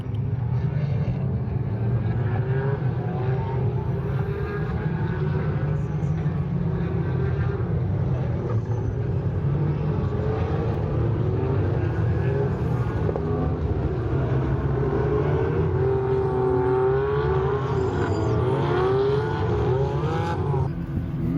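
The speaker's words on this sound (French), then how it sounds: "C'est parti, c'est au tour du GT4 maintenant." GT4 race cars lapping Circuit Paul Ricard during a GT World Challenge weekend, a continuous loud engine drone with shifting revs and passing tones, no pauses.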